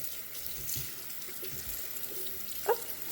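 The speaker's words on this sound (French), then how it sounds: "Donc on va venir rincer le plantain." Fresh plantain leaves are rinsed under a running kitchen tap, a steady rushing stream of water with soft splashes and one brief louder splatter near the end.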